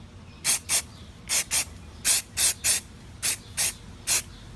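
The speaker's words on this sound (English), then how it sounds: "This spray can's spitting a little bit on me." A spray paint can hisses in eleven short, sharp bursts, mostly in pairs and threes, while weathering an O scale model train car, close and clear with quiet pauses between.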